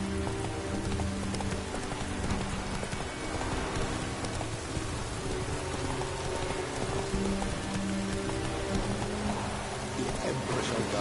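Hooves of Roach, the horse in The Witcher 3, clop steadily under heavy continuous rain in a game scene, the rhythm partly buried in the dense rain hiss.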